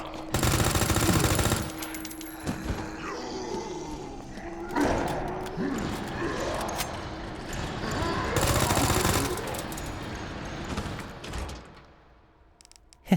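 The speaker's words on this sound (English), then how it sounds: "I just veer off and shoot, I guess" Gunfire in Resident Evil 2: loud bursts of shots open and recur midway, separated by clanks, thuds and rumbling game noise, ending in a quieter stretch.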